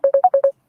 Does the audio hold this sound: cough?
no